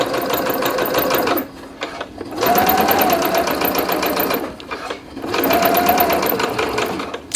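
A sewing machine straight-stitches fabric at stitch length 3 while tweezers hold the fabric down. It runs in three loud, close motor bursts with short stops between them for back stitching.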